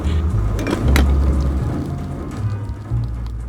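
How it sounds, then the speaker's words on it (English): Heavy rainstorm outside, a steady dense hiss of rain falling on surfaces that holds throughout, with a low rumble underneath that may be passing traffic. "the heaviest rainstorm started, and it has been going on now for the entire week"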